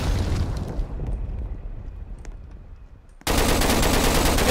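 Bombardment in a Roblox game: a rumbling barrage of explosions and gunfire that thins out, then slams back in with a sudden loud, sustained blast of noise.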